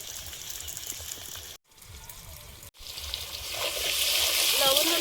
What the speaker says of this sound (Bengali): লবণ হলুদ দিয়ে আলুটা আগে ভালোভাবে ভেজে নেব।